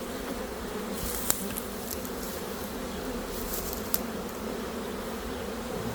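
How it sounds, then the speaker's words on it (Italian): Honey bees swarm around a hive being moved on a hot day, a dense, continuous buzzing drone close by, with a couple of sharp clicks or knocks and no voices. "a causa del caldo e del grande numero di api c'è situazione caotica"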